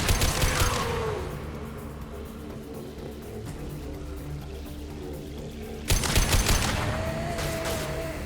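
Bursts of gunfire in the video game Mass Effect 2 crack out loudly at the start, fade into a low rumbling battle ambience, then return in a second loud volley near the end.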